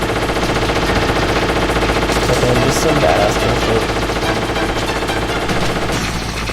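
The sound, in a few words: gunfire in the video game Metal Gear Solid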